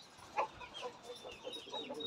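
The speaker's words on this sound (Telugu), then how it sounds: "ఇదిగోండి లోపల కూర్చొని ఉంది చూశారు కదా కోడి" A hen clucks softly as an elderly man lets it out of its coop in a village, a few faint, short clucks close by in quiet surroundings.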